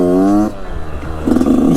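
Yamaha YZ85 dirt bike engine revving in second gear, a loud close buzzing tone that rises, drops off briefly, then climbs again.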